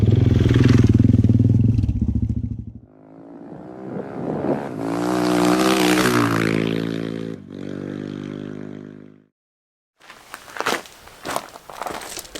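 An adventure motorcycle rides through a marble mine, its engine roaring and shifting pitch in several separate passes, with abrupt cuts between them and a short silent gap near the end.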